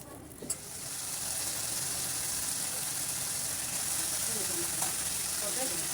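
Fried tengra fish dropped into bubbling tomato masala in a pan, a bright steady sizzle rising after a brief clatter and holding loud and even throughout, without speech.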